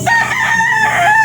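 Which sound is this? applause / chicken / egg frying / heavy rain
chicken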